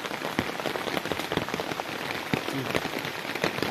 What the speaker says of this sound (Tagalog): Lakas ng ulan lang dito sa aming pwesto mga kasamang hunters.